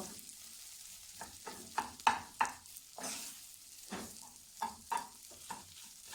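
Rice for Singaporean-style egg fried rice is tossed and stirred in a pan, giving a soft, steady sizzle broken by repeated scraping strokes of the utensil, close and moderately loud, with no talking.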